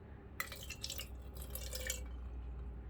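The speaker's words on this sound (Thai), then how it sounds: "เดี๋ยวลองเทน้ำออกหน่อยนึง" Water is poured out of a bird bath bowl, giving a brief splashing trickle of about a second and a half under a low background hum, with no talk.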